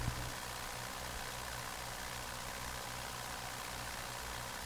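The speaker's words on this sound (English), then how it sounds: "watch the engine do its thing with the valves ticking open and shut" Engine of a Curtiss Jenny biplane running steadily in a flight simulator, a continuous droning rumble with a fine repetitive ticking from the valves, constant in level and without talk.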